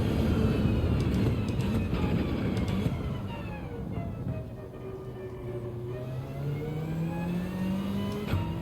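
A race car engine in Gran Turismo 7 revs through a lap, rising and falling in pitch with gear changes, a long climbing whine toward the end, steady and fairly loud with no talk.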